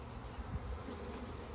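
Honeybees buzz inside a hive during a colony inspection, making a steady, dense, close drone with no pauses.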